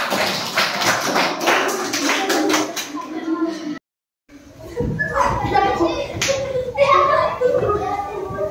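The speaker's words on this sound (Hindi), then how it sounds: "जोरदार तालियां इन बच्चों के लिए।" Primary school children clapping for classmates after a guessing game, dense rapid claps near and loud, mixed with kids' chatter and shouting, with one brief silent gap midway.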